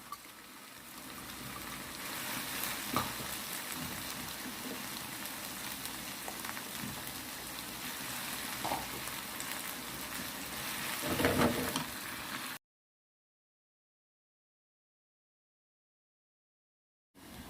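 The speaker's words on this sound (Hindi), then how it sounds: "अब मैं इसके अंदर हरी मिर्ची जो मैंने चॉप की थी, अब मैं वो डाल रही हूँ" Eight to ten chopped green chillies hit okra frying in a pan, making a soft, close hiss with occasional stirring scrapes before the sound cuts to silence.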